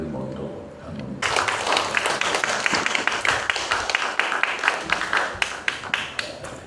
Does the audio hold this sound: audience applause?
yes